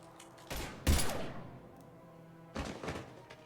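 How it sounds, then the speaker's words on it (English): Mass Effect 3 gunfire cracks out in a couple of loud, dense bursts roughly two seconds apart, with a heavy thump in the first burst over a low steady background hum. "Now open fire!"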